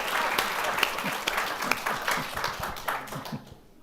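Audience applause at a policy discussion on the US and the Middle East: a full, dense burst of many hands clapping that fades out toward the end, with some voices mixed in.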